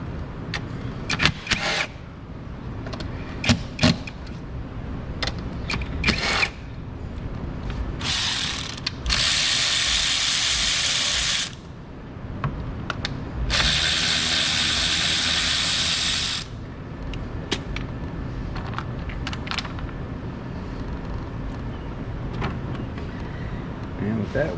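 A hand ratchet works 10mm bolts loose on a Honda CR-V K24 engine, with clicking pawl strokes in rapid bursts. Two longer stretches of steady whirring ratcheting stand out, and faint speech is heard between them.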